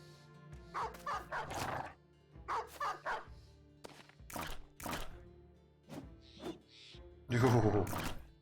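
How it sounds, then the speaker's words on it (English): War dogs in the game Battle Brothers barking in short, repeated bursts of deep woofs and yips, close and loud, with snarling, thuds and a final burst of frantic attacking noise. "this guy's about to get ripped to pieces by dogs"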